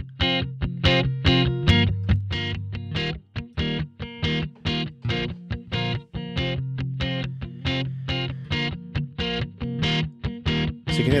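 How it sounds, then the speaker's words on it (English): Electric guitar through Sansamp power amp distortion in Pro Tools plays a rhythmic run of crunchy, harmonically rich chords with short gaps between strums, loud and alone. "you can hear that's a different kind of distortion than the preamp distortion"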